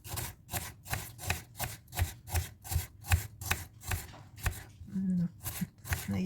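Knife chopping a white onion on a cutting board in a steady, even rhythm of about a dozen close, crisp strokes, slowing toward the end.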